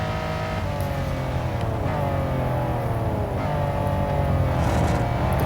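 A Lamborghini Countach engine roars in the racing game Real Racing 3, a loud continuous drone whose pitch climbs and drops with gear shifts, sustained alone without voices.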